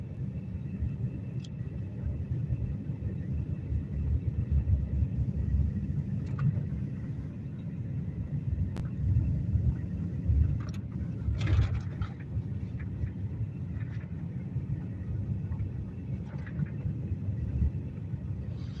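A car with good tires rolls along an icy, bumpy winter road in Alaska, a steady low interior rumble of tires and engine with occasional small knocks and creaks from the bumps.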